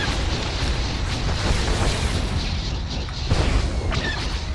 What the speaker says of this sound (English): Come on, let's use some rockets here.